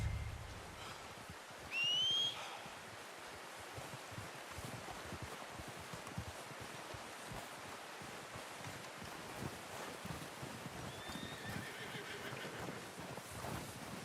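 Horse in Red Dead Redemption 2 whinnies once near the start and again softly later, with steady clip-clop hoofbeats and outdoor rustle running throughout; no one speaks.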